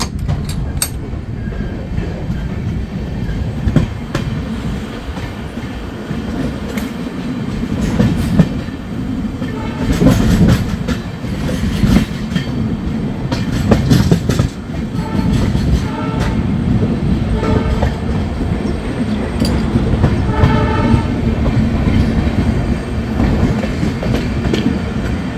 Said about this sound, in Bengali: আমাদের ট্রেন এখন আগরতলা ঢুকছে